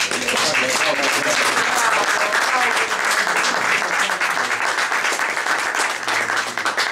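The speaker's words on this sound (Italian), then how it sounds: "Un applauso per il presidente Bruno Mancini" Audience at an award ceremony applauding president Bruno Mancini, a loud, dense, continuous clapping from many hands lasting several seconds, with a few voices faintly underneath.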